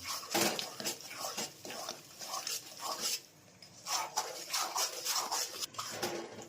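Desi jaggery being mixed into a protein-rich sukhdi mixture in a pan, with repeated scraping and clattering of a spoon against the metal pan and soft voices murmuring in between.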